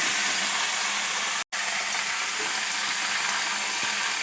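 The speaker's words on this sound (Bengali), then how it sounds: "এদিকে আমি কড়াইয়ের মধ্যে তেল গরম করতে দিয়ে দিয়েছি।" Vegetables cooking in hot oil in a wok give off a constant, even sizzling hiss, broken only by one brief instant of silence, with no voices present.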